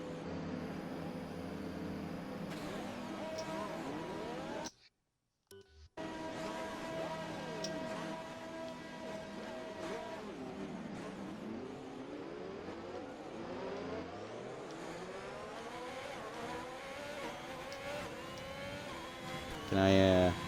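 Race car engines in a sim racing game rev and whine through rising and falling gear sweeps, cars passing at steady volume, with a brief dropout early on and a voice talking faintly at points.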